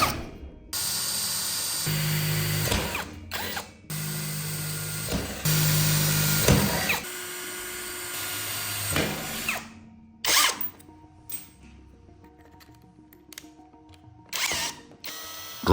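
Power drill tapping M4 metric threads into mounting holes on a structural frame, several loud bursts of whirring with short stops between them, then quieter intermittent clicks and hum toward the end.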